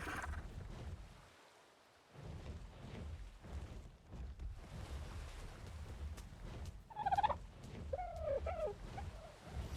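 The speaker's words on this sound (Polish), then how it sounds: "O Jezus, mini raptory." Small raptor dinosaurs in a survival game near a beach give a couple of short, high warbling chirps over a low wash of ambient game sound.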